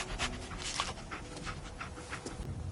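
The dog Dogmeat in the video game Fallout 4 pants in quick, breathy rhythmic puffs, close and fairly quiet against a soft background bed, continuing steadily for a few seconds.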